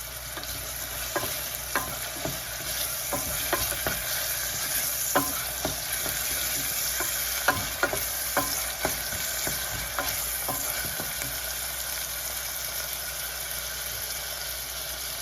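Onions frying in a pan until brown give a continuous loud sizzle over a steady background hum, punctuated by repeated scraping strokes of a spoon stirring at an irregular pace.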